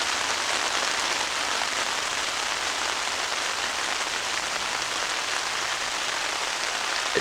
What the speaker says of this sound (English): It's a-raining now.